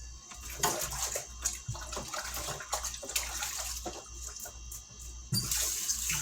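Water from a kitchen tap runs steadily while hands are washed mid-way through making meatloaf, close and continuous with small splashes and clinks.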